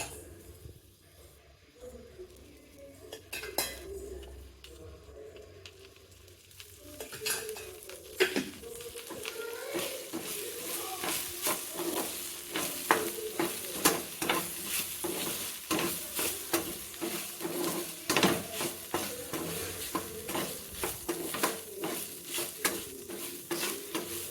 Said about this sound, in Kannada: ಬೆಂಡೆಕಾಯನ್ನ ಮಾಮೂಲಿ ಯಾವ ಥರ ಫ್ರೈ ಮಾಡ್ಕೊತೀವಿ ಆ ಥರ ಎಲ್ಲ ಪೂರ್ತಿ ಫ್ರೈ ಮಾಡಿಕೊಂಡು ಸ್ವಲ್ಪ ಎಣ್ಣೆ ಹಾಕ್ಕೊಂಡು